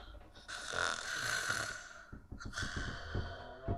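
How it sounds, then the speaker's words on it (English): A person snores in two drawn-out breaths, a long rasping inhale followed by a snorting, sighing release, close and otherwise quiet. "Still snores like when we were children."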